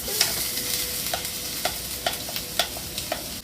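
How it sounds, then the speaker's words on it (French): Finely chopped onions sauté in a Prim'Cook cooking machine under a gentle, even sizzle, broken by a regular series of light clicking stir strokes, close and fairly quiet. "je vais faire rissoler les petits oignons finement coupés dans ma machine magnifique"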